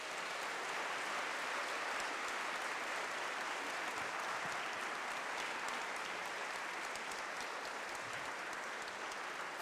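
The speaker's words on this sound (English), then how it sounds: "Can we give one last round of applause to our speakers" Sustained audience applause after a panel talk on economics, a dense, even wash of clapping lasting throughout, moderately distant with no voices over it.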